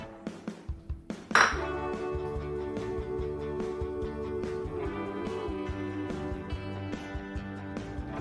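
A non-stick pan is handled for cooking pizza in a home kitchen, giving a few light metallic clinks and taps, then one sharper knock followed by softer occasional contacts, with steady music in the background.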